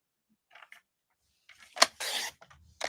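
Trimming a sheet of cardstock on a paper trimmer for a folded card: a few faint handling rustles, then a sharp click and a short scraping slice of the blade, followed by light taps, close and quiet.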